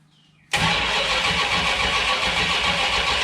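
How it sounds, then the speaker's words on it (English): Small block Mopar engine cranked with the ignition on but not firing; after a quiet half second, a sudden loud continuous mechanical churn with a faint low rhythmic pulse, close up and without talk. "crank it with the ignition on"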